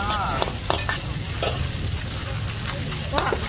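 Fresh-shrimp pad thai stir-fried by a street vendor in Hua Hin, with steady sizzling and scraping stirs of the spatula in the pan, and faint background voices.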